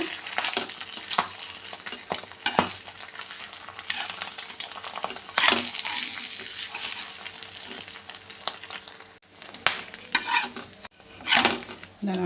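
Omelette batter mixed with masala powder cooks in a pan, giving a steady close sizzle and frying hiss with occasional scrapes and clinks of a utensil against the pan, and no talking.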